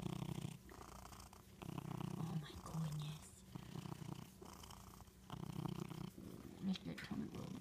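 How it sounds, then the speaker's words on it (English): A cat purrs up close in a steady, rumbling rhythm of in-and-out breaths, with a person's voice murmuring softly now and then. "let everybody hear your purr"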